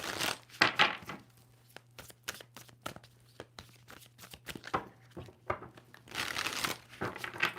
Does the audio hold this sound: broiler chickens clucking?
no